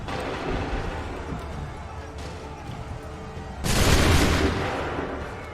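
Gunfire in Assassin's Creed III, a steady crackle of distant shots and rumble, then a sudden loud close volley that rings out and slowly decays.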